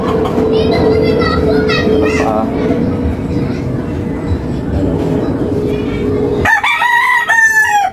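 A gamefowl rooster crows over a busy farmyard of clucking fowl and background chatter, then another loud, close crow rings out near the end.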